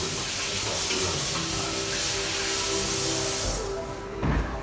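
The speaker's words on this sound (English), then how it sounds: "So I'm just going to wash my hands first" Tap water running steadily over hands at a kitchen sink, a loud continuous hiss that stops near the end, followed by a brief knock.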